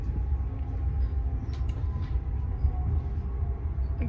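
Steady low rumble and rattle from riding inside a train car on a trip to Wiesbaden, continuous and fairly loud throughout with no talking.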